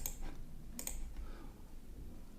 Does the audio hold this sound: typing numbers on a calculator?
yes